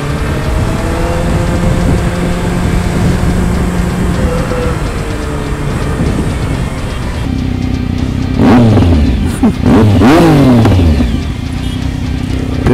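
A 2016 Suzuki Hayabusa superbike with SC aftermarket exhaust pipes idles loudly, then is blipped twice in sharp, rising revs near the end, close and aggressive with no talking.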